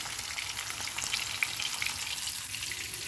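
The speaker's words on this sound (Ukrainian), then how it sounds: "кладу на сковорідку" Constant crackling sizzle of crucian carp frying in hot oil in a pan, bright and close, with occasional louder pops.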